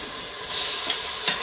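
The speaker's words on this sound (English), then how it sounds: "Once the garlic starts to sizzle, I'm adding chicken strips." Garlic and about two pounds of chicken strips frying in an Instant Pot on saute mode, giving a steady close sizzle with faint stirring scrapes, no talking.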